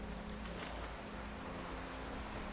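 Steady broadband rush of falling water from a waterfall in the game Lost Ember, a continuous wash with a low hum beneath, even and unbroken throughout, no voices.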